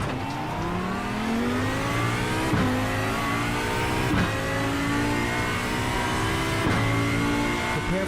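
Race car engine in iRacing at the Nürburgring, revving hard through repeated gear changes with rising harmonic sweeps and sharp shift breaks around every couple of seconds, loud and continuous with no talk.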